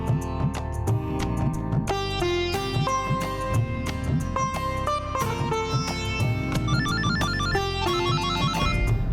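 A mobile phone ringtone in a Hindi TV drama: a loud, continuous electronic melody with repeating tonal patterns, playing throughout.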